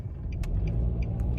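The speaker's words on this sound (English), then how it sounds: "that's my car making that noise" A car engine gives a low, steady rumble at close range, with a few faint light clicks and ticks on top.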